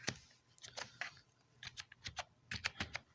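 Keys tapped on a computer keyboard while a direction value is entered into HTML code, a run of quick, close, irregular clicks in small bursts with pauses between them.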